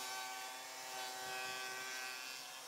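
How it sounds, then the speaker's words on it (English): Table saw with a 1/4 inch dado set cutting a groove in wood stock for a keepsake box, a steady high whine with a rough rasping cut underneath, close and continuous. "I cut the groove for the top"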